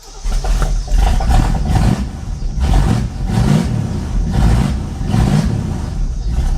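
A barn-find Lincoln Continental's engine, revived after 35 years, runs loud and close with repeated surging revs rising and falling over a rough idle.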